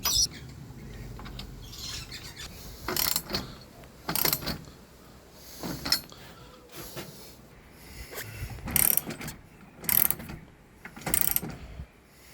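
M10 bolts tightened to clamp a hoist rail inside a dug bunker, with bursts of ratcheting clicks coming in several separate runs between quieter pauses, close by and with no voices.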